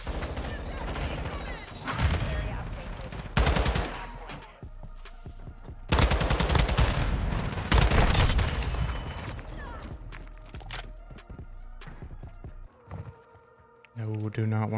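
A TAQ 56 rifle fires in Modern Warfare 2: loud bursts of rapid automatic gunfire come in several long volleys, mixed with other in-game battle sounds.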